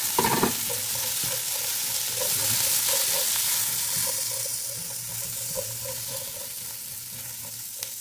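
White onions sizzle in a hot pan, a dense, steady frying hiss that carries on throughout, opening with a sharp clatter and followed by a faint low hum, with no speech.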